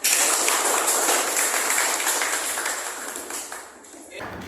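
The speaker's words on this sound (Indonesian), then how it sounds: "Tepuk tangan untuk kita semua." Vocational school students in a classroom burst into loud, dense applause that holds steady for several seconds and then cuts off sharply, with a voice heard at the end.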